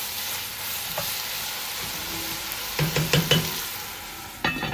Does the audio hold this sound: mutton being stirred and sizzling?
yes